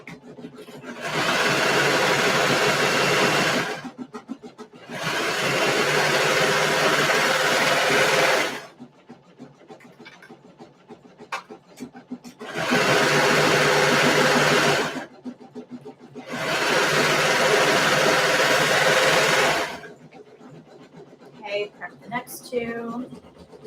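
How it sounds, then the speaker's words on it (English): A serger stitches two ruffles together in four long, even bursts of fast mechanical whirring, close and loud, separated by quiet pauses with light handling noise and a speaking voice. "I'm going to serge these 2 together."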